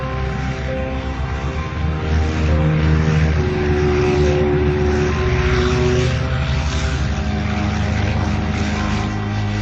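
Propeller aircraft of Admiral Byrd flying over Antarctica near the South Pole, a steady loud droning engine hum with layered tonal harmonics, continuous and close throughout.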